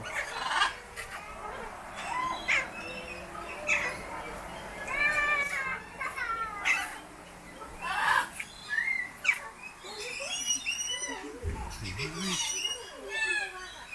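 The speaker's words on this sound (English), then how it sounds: "They're beautiful birds, aren't they?" Assorted birds call and squawk nearby in bursts inside a large aviary in Kuranda, overlapping one another, with people talking and a voice mixed in.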